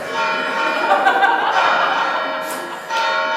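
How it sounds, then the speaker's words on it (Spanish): Church bells ring outside in a steady, resonant wash of overlapping tones, heard at moderate loudness and without speech, with a brief brighter strike near the end. "está allá afuera tocando las campanas"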